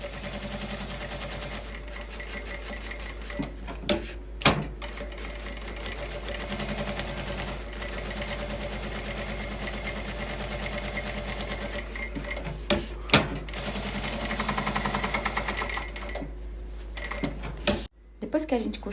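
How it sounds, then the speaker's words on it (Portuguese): A sewing machine runs steadily at short stitch length 2, stitching along a marked line on fabric for a small bonbon holder, with a continuous close mechanical whir, brief pauses and a few clicks, while someone talks over it. "Eu vou costurar em cima desse risco com o pontinho número 2"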